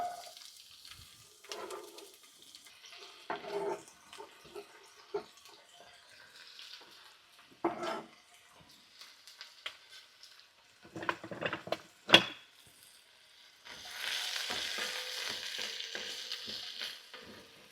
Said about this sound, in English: We're just going to saute these down until they start to get translucent.